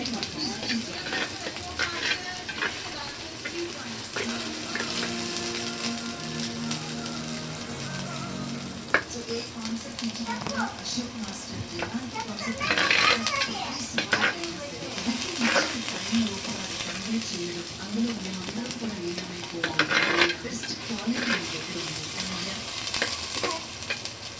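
Ginger garlic paste frying in a pan for a fish curry, a continuous crackling sizzle with repeated scraping stirs of a spoon against the pan, close and steady over the whole stretch.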